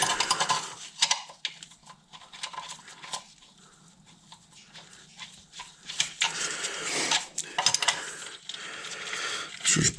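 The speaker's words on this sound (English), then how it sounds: "I've got the tool to hold the crank. So I'll get that fitted in now. Just need to attach it with the two bolts." Metallic clinks, scrapes and taps as a crank holding tool is fitted and fastened with two bolts during cam belt replacement on a Ford Escort Cosworth engine, irregular and close, with no talking.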